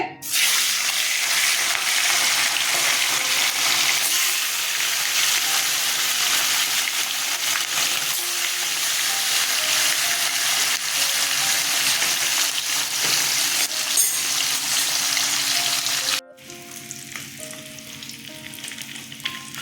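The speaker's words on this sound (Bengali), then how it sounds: "তেল গরম হয়ে গেছে মাছ ছেড়ে দিচ্ছে" Loud, continuous sizzling of sarputi fish frying in hot oil, dense and close, easing to a quieter, lighter sizzle near the end.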